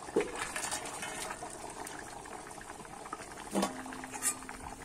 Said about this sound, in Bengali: ঝোলটা কিন্তু আমার ভালোভাবে ফুটে গেছে আর আলু কচুটাও কিন্তু সিদ্ধ হয়ে গেছে